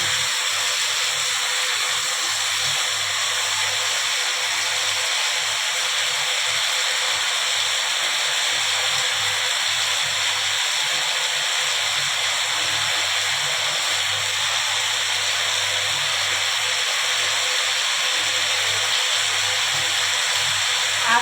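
Water poured into a pan of vegetable curry with half-boiled potatoes sets off a steady, loud sizzling hiss of steam that holds evenly without a break for the whole stretch.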